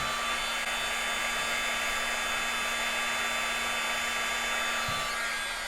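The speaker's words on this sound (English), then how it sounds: "I'm going to use this heat gun, so it's just warm air, to heat that." A heat gun blows warm air onto thermoplastic for an orthosis, a loud, steady, close whooshing hum with an even tone that does not let up.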